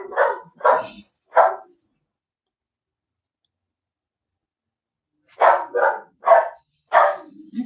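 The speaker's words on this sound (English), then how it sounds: "Lucky he hears the dog next door." The neighbour's French bulldogs bark next door, three sharp barks, a few seconds of silence, then a quicker burst of four or five more, fairly close and clear with no talking.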